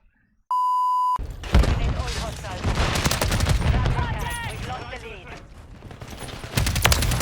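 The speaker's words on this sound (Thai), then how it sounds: "เดี๋ยวขอเอาปืนไปลองในมันติเพลเยอร์สักหน่อยนะ" BAS-B rifle fire in a Call of Duty Warzone multiplayer match, a loud rapid automatic burst following a short beep, with sharp shots continuing under a voice.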